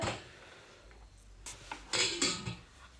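Dishes and pots being washed in a home kitchen sink, with scattered clinks and clatters of utensils and pans, a few sharper knocks near the end, against faint running water and no talk.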